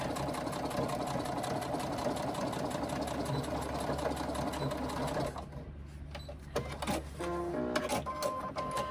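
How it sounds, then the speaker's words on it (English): A sewing machine stitches a fabric pocket pouch with a steady, close, continuous whir for about five seconds, then stops, leaving scattered handling clicks and taps. "start stitching at about the same point that you ended off before on the other side there"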